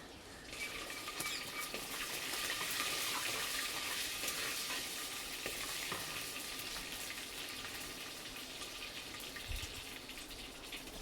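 Cumin seeds frying in oil in a clay pot, a steady bright sizzle with light crackling and popping that fills the whole stretch without pause, close and even, with no talking.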